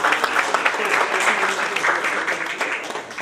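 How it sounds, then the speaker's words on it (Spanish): Steady, dense applause from a conference audience at an international human rights and constitution congress, sustained and fairly loud throughout with no pauses. "recibamos con fuerte aplauso"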